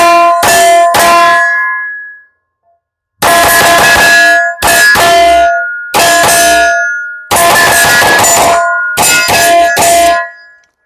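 A Fowler V9kx pistol with a non-ported 4.25-inch barrel and full-size grip fires at an outdoor range: loud, sharp shots in quick strings and clusters, each leaving a bright metallic ring, with brief pauses between groups.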